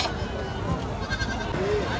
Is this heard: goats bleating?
yes